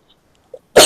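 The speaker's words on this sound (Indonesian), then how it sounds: "Batuk tutup mulut." A single short, loud cough near the microphone closes the clip, coming after a near-silent stretch with one faint soft sound just before it.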